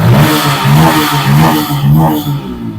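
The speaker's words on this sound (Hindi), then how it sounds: "अब बाइक को हम कुछ देर थ्रोटल देते हैं" A Bajaj Pulsar N160 BS6 motorcycle engine revs repeatedly under throttle in rising and falling surges, loud and close, with no voices; the bike has a problem of repeatedly stalling.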